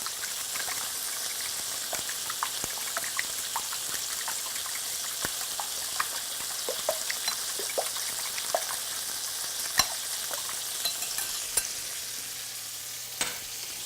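Omelet ingredients being mixed together in a bowl, a steady soft hiss broken by scattered light clicks and taps of stirring, close and moderately loud, with no speech.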